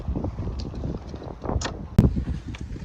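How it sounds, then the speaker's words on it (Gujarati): Strong wind gusting outdoors, buffeting the microphone with uneven rumbling bursts and a sharper knock near the middle, loud and close. "પવન ફૂલ પવન ફૂંકાય છે."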